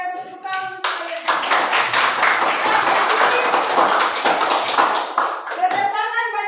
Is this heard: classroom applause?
yes